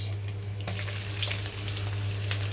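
Onion frying with whole spices in a pan for chicken curry, a steady close sizzle running throughout, brightening with a burst of crackle partway through.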